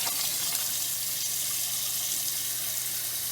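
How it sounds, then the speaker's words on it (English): Cold water runs from a tap over boiled eggs and ice in a bowl, a steady close hiss of splashing and filling with no pauses. "And then I'm going to just put some cold water on this."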